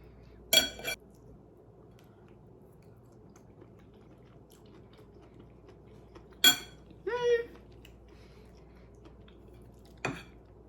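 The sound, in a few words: knife cutting Palmini lasagna noodles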